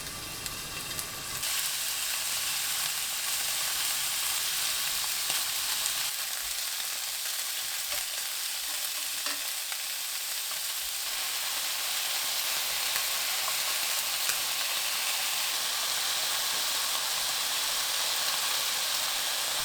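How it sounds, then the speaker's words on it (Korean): Beef rolls fry in a tablespoon of cooking oil in a pan over medium heat, giving a steady, dense, continuous sizzle that runs unbroken from near the start, with no talking. "팬에 식용유 한 큰술, 소고기 말이 올리고 중불로 구워주세요."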